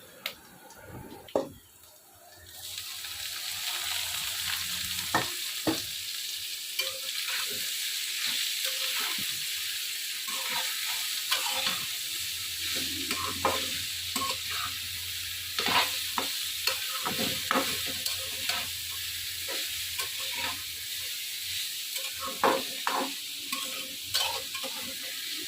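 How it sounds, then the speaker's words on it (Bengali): A tempering of onion, garlic and chillies hits hot oil for a greens stir-fry: a soft tap, then a sudden burst of loud sizzling that continues steadily, punctuated by repeated scraping and clicking stirs. "এবার আমি ফোড়নটা দিয়ে দিচ্ছি।"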